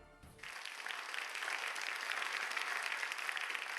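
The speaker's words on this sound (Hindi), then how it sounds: "अरे सब ताली बजाओ।" A crowd claps together in steady, dense applause that starts abruptly and continues evenly at moderate loudness, with no talking.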